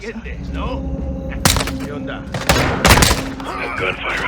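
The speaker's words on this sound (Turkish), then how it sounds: "Bu silah sesi onları alarma geçirdi." Gunfire in the video game Call of Duty: Modern Warfare 2 comes as sharp, loud bursts, a single shot followed by heavier volleys, over ambient game sound, with voices talking in between.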